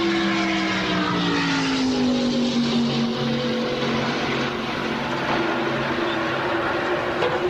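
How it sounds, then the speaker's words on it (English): NASCAR stock cars racing at the 1991 Winston 500 make a loud, sustained engine roar whose pitch sweeps downward as the pack passes, then holds as a steady drone with no talking. "And let's listen to the cars."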